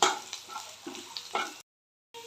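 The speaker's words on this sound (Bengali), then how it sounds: "একটা প্যানে তেল আর পেঁয়াজ কুচি দিয়ে দিয়েছি এটাকে লাল করে একটু বেজে নেব" Chopped onions fry in oil in a pan, a soft close sizzle broken by stirring scrapes, then a sudden silence before the sizzle briefly returns.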